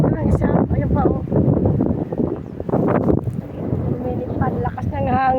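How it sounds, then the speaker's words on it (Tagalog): Strong wind gusts roar and buffet the microphone outdoors where children fly kites, a constant rough rumble with a voice talking over it throughout. "Lakas ng hangin."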